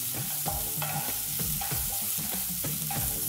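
Shredded cabbage and vegetables sautéed in a pan for chicken noodles, with steady sizzling and repeated scraping strokes of a spatula in a regular rhythm, close and fairly loud, no voices.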